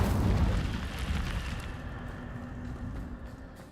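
Incendio fire spell cast in Hogwarts Legacy, a loud whooshing roar of flame that erupts at once and slowly dies down into a steady rumble, with no talking.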